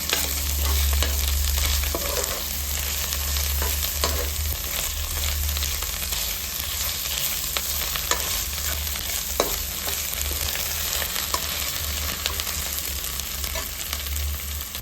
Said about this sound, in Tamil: இந்த ஸ்டேஜில் 1 ஸ்பூன் இஞ்சி பூண்டு பேஸ்ட்டு, இது பச்சை வாசனை போகிற வரைக்கும் ஒரு 2 மினிட்ஸ் நல்லா வதக்கி விட்டுக்கலாம்.